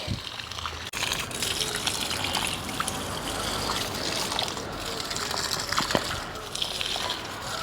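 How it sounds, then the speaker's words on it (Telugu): Water pours steadily onto garden soil around potted paper flower (bougainvillea) plants in winter, a continuous close gushing and trickling splash with brief faint background voice. "నేను శీతాకాలం రోజు ఇస్తున్నా నీళ్ళు మట్టికి."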